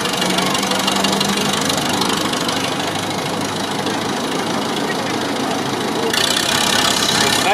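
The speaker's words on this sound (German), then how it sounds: "Greift der Trecker über den Riemen den Dreschkasten an." An old tractor drives a threshing machine by belt at a threshing festival, giving a loud, steady mechanical knocking and rumbling drone with a brief louder shift near the end.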